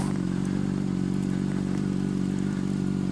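A motorcycle rides steadily along a road through haunted woods, its engine a loud, constant low rumble close by with light clatter and scraping over the top, no talk.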